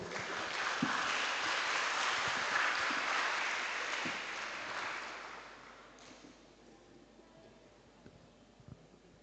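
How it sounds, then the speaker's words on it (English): An audience applauds a student team at an international student forum. A broad, dense wash of clapping holds steady for several seconds, then fades out and leaves a quiet room with a few faint knocks. "Let's give applause for the Green Guard team"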